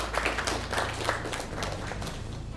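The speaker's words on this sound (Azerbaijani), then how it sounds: "13 xal. Alqışlar." Applause for a school quiz team after its score is announced at a quiz competition, a dense steady patter of many hands clapping for a couple of seconds without pause.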